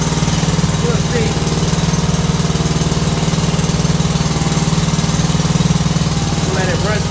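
A lawn mower engine runs at a steady idle close to the microphone, its even mid-pitched drone and vibration continuing without a break.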